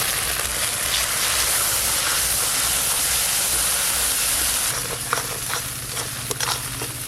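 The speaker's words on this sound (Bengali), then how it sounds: "সর্ষে পোস্ত দেওয়ার পর মশলা কিন্তু বেশিক্ষণ কষতে হয় না, একটু ভালো করে কষে নিয়েছি।" Spices fried with a ground mustard and poppy seed paste in a pan give a loud, steady sizzling hiss throughout. Near the end the hiss thins slightly and a few faint clinks and scrapes sound over it.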